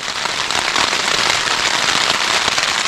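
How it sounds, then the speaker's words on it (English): Heavy rain pours steadily onto a one-person tent in deep winter snow, a dense, unbroken hiss of drops drumming the fabric close by, loud and constant throughout with no voices. "It's raining more heavily all the time."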